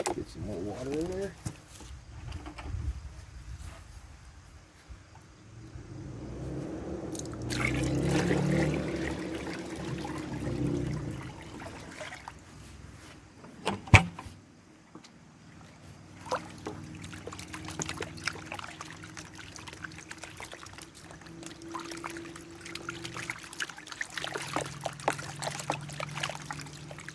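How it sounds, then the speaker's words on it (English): Water is poured and sloshed into a gold panning tub outdoors, with intermittent trickling and splashing at close range, while someone talks over it. "Let's get some more water in there."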